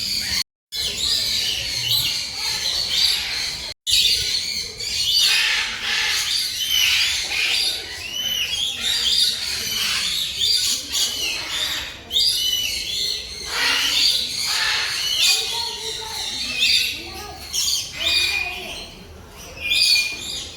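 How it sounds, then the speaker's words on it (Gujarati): A bird squawks and calls loudly over and over, sharp shrill cries repeating close by through a long stretch with faint background noise. "આ પક્ષીનો અવાજ તો જો યાર કેટલો અવાજ આવે છે"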